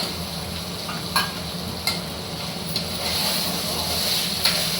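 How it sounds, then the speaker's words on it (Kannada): Chickpeas, peas and kabul chana frying in oil in a pan with curry leaves, onion and ginger-garlic paste, a steady sizzle with a few stirring clinks, close and alone. "ಈಗ ಇದು ಎಣ್ಣೆಯಲ್ಲಿ ಸ್ವಲ್ಪ ಫ್ರೈ ಮಾಡ್ಕೊಳ್ಳೋಣ."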